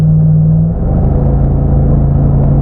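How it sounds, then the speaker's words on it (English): An LS V8 swapped into an early JK Jeep Wrangler with a bump shifter revs under throttle, a steady close engine drone that deepens and swells after the first moment and holds loud and continuous. "So now I'm going to give it some throttle, and we're going to go into performance enrichment."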